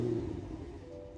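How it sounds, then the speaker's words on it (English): A 2023 Cadillac Escalade-V's V8 engine turns over with a loud burst, then settles into a low, steady idle rumble, heard up close and alone at night. "start it up, and hear that glorious V8 engine."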